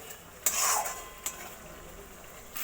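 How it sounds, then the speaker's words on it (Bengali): A spoon scrapes through masala with Kashmiri chilli powder as it is sautéed in oil for a vegetarian paneer dish. Two or three close, sharp stirring strokes over a faint frying hiss, with no voices. "এবার মশলাটা ভালো করে আমি কষিয়ে নেব যতক্ষণ পর্যন্ত তেল না ছাড়ে।"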